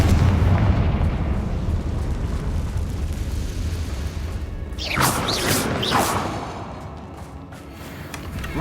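A Confringo spell explosion in the video game Hogwarts Legacy: a heavy rumbling blast, followed by crackling, whooshing magical bursts and a fading rumble.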